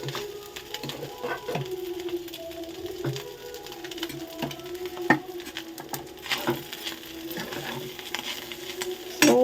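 Rice is added and stirred in a cooking pan, with steady soft sizzling and repeated scraping and clacking of a utensil against the pan, close and moderately quiet with no talk.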